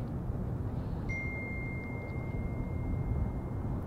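A short notification ding rings out once near the one-second mark as a steady clear tone, fading slowly over loud, constant road and wind rumble inside an electric vehicle driving at Auto Club Speedway.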